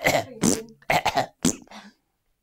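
A short burst of coughing and throat-clearing, several quick close hacks in a row, loud and dry, fading into silence.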